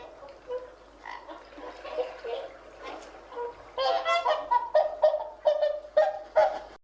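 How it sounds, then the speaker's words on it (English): A goose honks repeatedly, harsh nasal calls over a faint background. The calls start scattered and grow into a louder, steady run of honks in the second half. "Goose."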